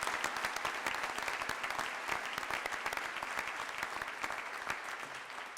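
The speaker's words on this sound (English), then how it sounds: "Please give them a round of applause." An audience applauds honor society inductees at a business college honors convocation, a dense, steady burst of clapping from a full hall that carries on evenly throughout.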